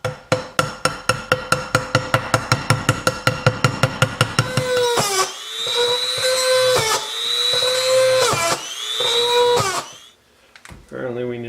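Hand work on a homemade ultralight tuna-can alcohol backpacking stove: a quick run of sharp, regular tapping for about four seconds, then a longer stretch of shrill whirring grinding in bursts, close and fairly loud, stopping near the end.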